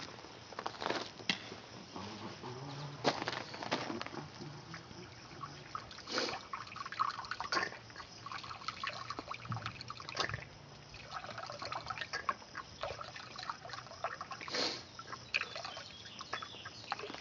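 Steady water pouring and trickling into a pot, roughly a cup, with irregular splashes and drips throughout; close, moderately quiet, no talking.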